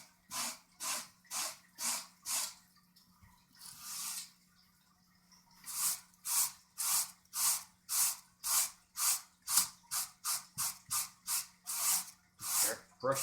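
A brush sweeps in one direction across the carpet covering of a speaker, making close, scratchy strokes in a steady rhythm, with a short pause partway through before roughly a dozen more quicker strokes.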